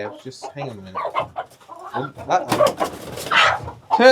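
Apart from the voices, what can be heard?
hen clucking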